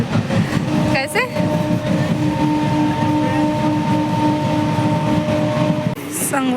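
A train passes nearby as a steady rumbling roar with sustained horn-like tones, heard during a trip to visit a goddess shrine; brief voices occur near the start and the end.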